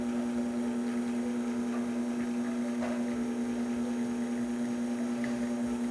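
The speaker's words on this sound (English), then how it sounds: "we're still getting crema and a good flow coming out from this beautiful machine." An ECM espresso machine pulls a shot, with a steady, even pump hum running unbroken at moderate level and no talk.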